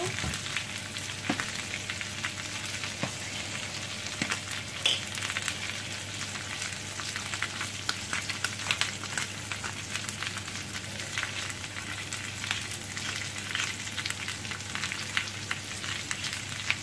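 Food browns in a pan with parsley and black pepper while cooking for a roast beef and Yorkshire pudding meal, giving a continuous close sizzle with crackling pops and occasional stirring, no voices.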